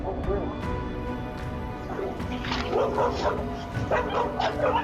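Dogs barking and yipping excitedly at a bear over a noisy background, with voices shouting amid the commotion.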